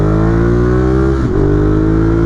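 Ducati Monster 821 motorcycle engine held at high revs with a steady, loud harmonic drone that dips briefly in the middle, then climbs back, with no talk.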